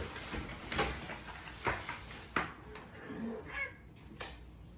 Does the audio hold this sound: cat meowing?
yes